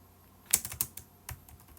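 A handful of quick keystrokes clatter on a computer keyboard, close and fairly quiet, in two short irregular bursts.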